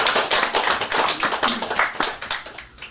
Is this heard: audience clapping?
yes